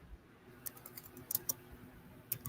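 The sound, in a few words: typing on a computer keyboard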